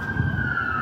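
An emergency vehicle siren sounds on a vacant city street, a steady loud wail holding one sustained tone through the whole short stretch with no voices over it.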